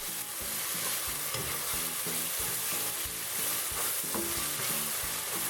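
Chopped tomatoes cook in a pan for Chinese okra sabzi, giving a steady close sizzle with repeated rhythmic stirring scrapes throughout and no voices.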